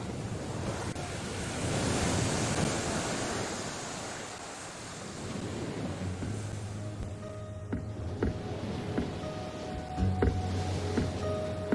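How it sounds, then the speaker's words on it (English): Atlantic Ocean waves lap the shore on the southernmost island of an archipelago, giving a steady broad wash that swells and eases, with wind buffeting the microphone and faint tonal hums in the background. "Lapped by the waves of the Atlantic Ocean, it is the last land before Brazil."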